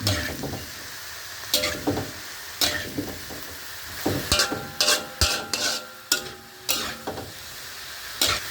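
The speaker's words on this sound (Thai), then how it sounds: "มาผัดให้เข้ากันนะครับ" Noodles are stir-fried in a hot pan with a continuous sizzle, while a utensil scrapes and knocks against the pan in irregular strokes, close and fairly loud, with no talking.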